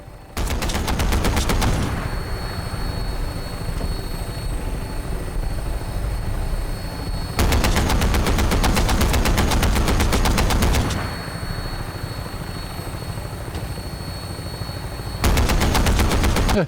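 Bursts of rapid laser gunfire in the Fallout 4 game come in three loud volleys, over a constant helicopter-like vertibird engine drone.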